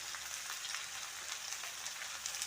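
Salted onions with cumin sauté quietly in a pan, a faint, continuous sizzle heard from close by with no other sounds.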